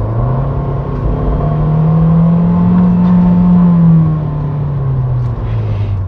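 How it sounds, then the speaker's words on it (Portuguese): A small turbocharged Fiat 500L engine drones and revs up, holds, then eases off, with a brief faint turbo blow-off hiss near the end; no one talks. "Ele dá uma espirradinha de turbo aqui"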